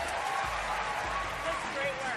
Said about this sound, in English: A small round of applause